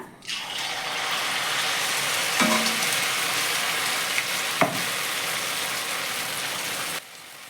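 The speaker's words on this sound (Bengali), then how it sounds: "এখানে কিন্তু আমার একটা টিফিন ভেজে নেওয়া হয়ে গেল" A tiffin snack deep-frying in hot oil over a medium-high gas flame, giving a steady close sizzle with a couple of faint clicks.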